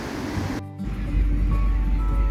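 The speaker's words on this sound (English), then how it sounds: "that's Niagara Falls looking down the river" Niagara Falls seen looking down the river, with a steady broadband roar of rushing water and wind buffeting the microphone, loud and continuous after a brief dip.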